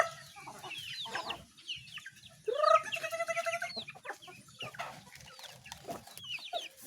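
Pet chickens clucking while being fed outdoors, with a scatter of soft clucks and a louder squawking call in the middle, intermittent and close by over faint background chatter.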